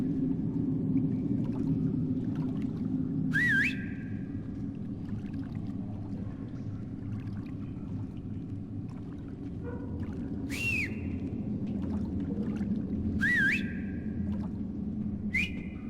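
Someone whistling in the stealth video game Splinter Cell Pandora Tomorrow, a few short rising whistled notes heard at a distance over a constant low ambient rumble.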